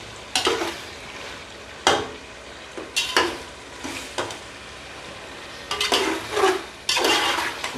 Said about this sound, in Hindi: अभी इसको अच्छे तरीके से इसकी भुनाई करते हैं। 2 से 3 मिनट इसकी भुनाई करते हैं अच्छे तरीके से।